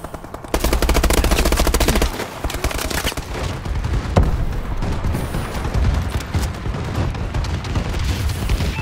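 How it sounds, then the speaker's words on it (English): A friendly bombing run in a Call of Duty match brings dense, rapid machine-gun bursts and heavy booms that roar on loudly and continuously, with no talking. "Friendly bombing run incoming."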